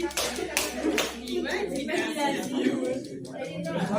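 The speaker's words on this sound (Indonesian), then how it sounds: "Oke, beri tepuk tangan buat kelas." A school class applauding in a biology lesson, a brief burst of children's clapping with young voices chattering over and after it.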